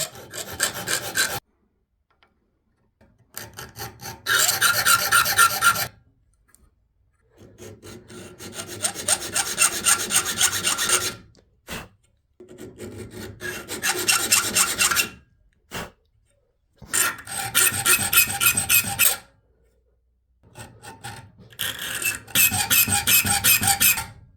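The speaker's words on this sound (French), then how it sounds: "Maintenant, on va attaquer l'étape du guillochage." A folding knife is hand-engraved with guillochage, producing repeated close rasping, scraping strokes in bursts of a few seconds separated by short silences.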